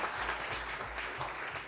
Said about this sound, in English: let's clap for the Democrats too